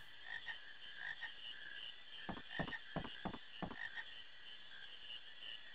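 Frogs croak in the marshland of Final Fantasy IX, a cluster of rapid, rhythmic croaks in the middle over a steady high-pitched game ambience, faint and without speech.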